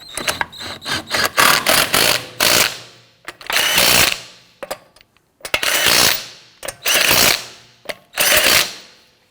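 Lug nuts being run onto a Hyundai Elantra front wheel with a power tool, several loud ratcheting bursts of a second or so each, separated by short pauses, close by with no talk.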